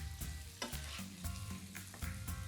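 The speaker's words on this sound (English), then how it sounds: "And then just give everything a toss." Green beans almondine with lemon juice sizzle steadily in a hot pan while being tossed, with rhythmic scraping and clattering strokes close by, no talk.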